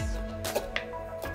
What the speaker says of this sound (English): Trick with the ginger, if you haven't seen it before, is to peel it with a spoon.